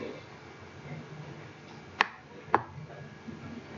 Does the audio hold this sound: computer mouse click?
yes